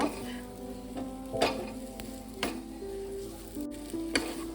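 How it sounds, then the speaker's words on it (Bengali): Lentil-cake dhoka sizzling in a pan of hot oil as it is stirred, a steady close fry with a few louder scraping strokes of the spoon at intervals. "আমার ধোকার এটা প্রায় হয়ে এসছে, আর একটু নেড়ে চেড়ে নেব।"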